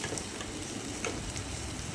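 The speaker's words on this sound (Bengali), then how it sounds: "আমার দেখুন কুঁতলিটা ভাজা হয়ে গেছে।" Dahi kudli fritters fry in hot oil, giving a steady, close, even sizzle with faint ticks and crackles throughout and no talk.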